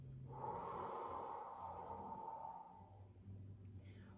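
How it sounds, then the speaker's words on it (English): During a kids yoga session, a child gives one long, airy exhale that is soft and close, tapering off over about two seconds before quieter breathing follows. "Take your hands, push the air out,"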